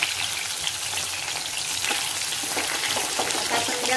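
Chicken pieces frying in hot oil, making a loud, dense and continuous crackling sizzle close up, like heavy rain, with no breaks and no voices.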